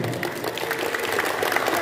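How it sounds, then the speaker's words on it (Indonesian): Short burst of clapping from a group of fifth-grade schoolchildren on a study tour at an animal museum in Malang, a dense, fairly close patter lasting under two seconds. "tepuk tangan untuk kalian semuanya"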